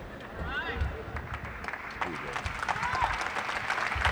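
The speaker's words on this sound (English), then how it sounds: "Let's give another round of applause for the Curtis Family C Notes." An audience applauds a family singing group at a summer kickoff event, steady clapping throughout while someone speaks over it.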